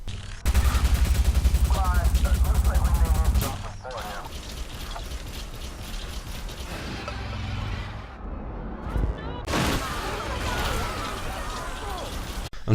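Spider tank rapid gunfire in the video game Watch_Dogs, a loud sustained burst of automatic fire followed by clattering blasts and rumbling explosions, while someone talks over the action.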